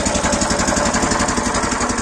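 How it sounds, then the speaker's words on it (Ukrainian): Hybrid walk-behind tractor with a Weima engine running in -17 °C frost, a loud, close, steady rapid-firing engine chug with no pauses. "Перевірити в мінус 17, як працює мотоблок, гібридний мотоблок з двигуном Вейма."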